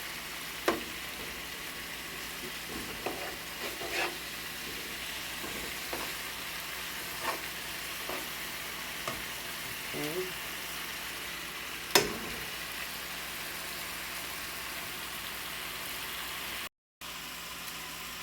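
Beef chunks for stroganoff browning in a pan, giving a steady low sizzle with scattered soft clicks and knocks from cookware; a faint engine-like hum sits underneath.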